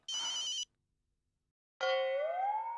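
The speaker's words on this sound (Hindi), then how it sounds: "लगता है जेठालाल का फोन होगा।" A telephone rings twice, with a short electronic trill, a pause of over a second, then a longer ringing tone that rises slightly in pitch.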